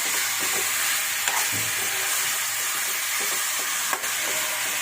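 Chicken and bamboo shoot fry in a pan with a loud, continuous sizzle, broken by a few scraping stirs and one sharp clank of a utensil against the pan.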